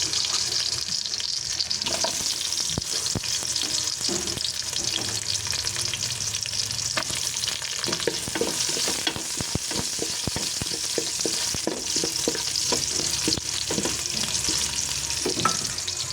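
Onions frying in a pan for Filipino sinigang na pata, a steady close sizzle with scattered sharp crackles and pops from stirring throughout, no voices.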